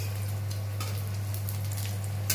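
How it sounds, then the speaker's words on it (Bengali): Macaroni veggie fingers fry gently in oil over a low flame, making a soft, steady sizzle over a low background hum, with no talking. "এটা ভাজা হচ্ছে। খুব আস্তে লো ফ্লেমে করতে হয় ভাজাটা,"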